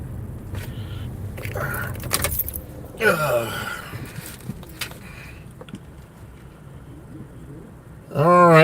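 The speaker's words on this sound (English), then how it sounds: "I'll get ready to turn my truck off too." Keys jangle and clink in short bursts inside a truck being shut off, followed by mechanical clicks and a door or latch movement, with a louder rustling thump at the end; no one speaks.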